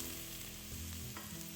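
Garlic sizzles gently in hot oil in a preheated wok, a soft, steady frying hiss with a low hum underneath and a few faint crackles.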